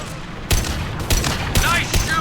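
Sci-fi weapons fire in sharp, loud shots about every half second during a Mass Effect 2 firefight, over a dense background of combat noise.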